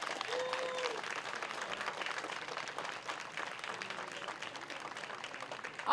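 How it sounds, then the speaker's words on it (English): A crowd claps steadily for several seconds, a dense, even wash of applause with no pauses, heard up close and fairly loud. "let's give everyone a round of applause"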